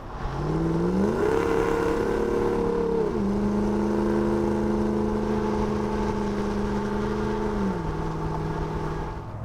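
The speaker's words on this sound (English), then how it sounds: "The Flowmaster exhaust here is only loud when you're on it." A Dodge Ram HEMI V8 truck with a Flowmaster dual exhaust revs steadily, a loud deep rumble rising, holding, then dropping in pitch, with no voices.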